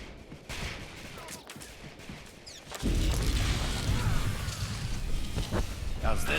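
Video game gunfire, rapid bursts and booms that grow louder and denser partway through, with voices mixed underneath.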